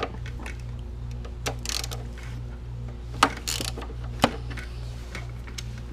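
Ratchet wrench loosening the brake caliper bolts on a Hayabusa motorcycle, rapid repeated clicking ratchet strokes with a couple of sharp metallic knocks, close and without talk.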